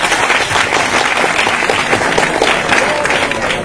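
An audience at a ceremony claps continuously in a dense, loud wash of applause that holds steady throughout with no pauses.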